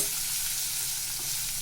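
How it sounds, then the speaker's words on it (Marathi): Onion frying in oil in a pan as the base for chicken sukka, a continuous close sizzle with light stirring, steady and unbroken with no voices. "कांदा चांगला गोल्डन कलर होईपर्यंत तो परतवायचा आहे आपल्याला फोडणीचा"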